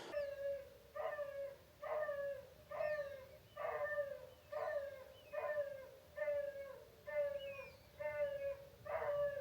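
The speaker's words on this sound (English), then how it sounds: "I'm not going to miss them bloody dogs" Dogs barking and howling at a lakeside carp fishing venue, a repeated rhythmic series of drawn-out howling barks, moderately distant, carrying steadily across open water.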